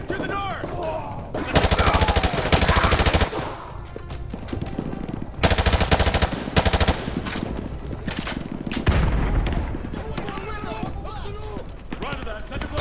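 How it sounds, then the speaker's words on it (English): Dense automatic gunfire and explosions in a Call of Duty Modern Warfare 2 Remastered combat mission, loud sustained bursts broken by brief lulls, with shouted voices mixed among the shots. "You're taking heavy fire from the school!"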